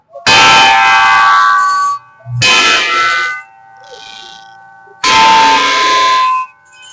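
Three loud metallic rings from a struck hardened steel machine blade at the Latur agricultural exhibition, each a bright bell-like clang that hangs for about a second and a half before fading, with a faint softer ring between the second and third.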